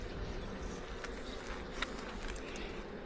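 Honey bees from a weak hive just out of winter hum in a soft, steady drone during a beehive inspection, faint and continuous with no voices.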